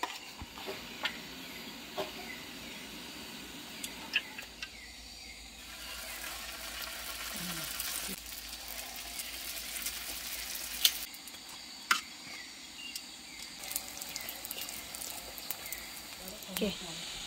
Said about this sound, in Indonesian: inilah minyak kelapa yang kita guna untuk goreng ini kui